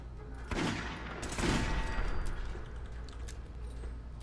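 Automated turret gunfire in the video game Fallout 4, a loud close barrage of rapid shots swelling over a few seconds amid sustained combat din, with no talking.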